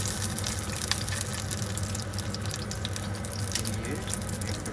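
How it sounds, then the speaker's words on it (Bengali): A sausage frying in hot oil: a steady, close crackling sizzle with scattered pops, continuing evenly throughout. "তেল পর্যাপ্ত গরম হয়ে গেছে, হচ্ছে আমি একটা সসেজ দিয়ে দেবো তেলে"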